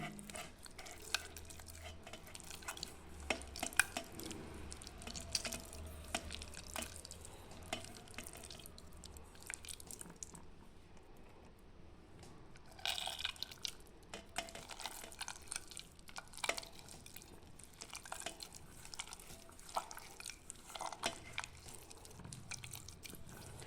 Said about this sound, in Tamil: அடுத்தது இந்த கத்திரிக்காயும் இப்படி பிசைஞ்சுக்கலாம்.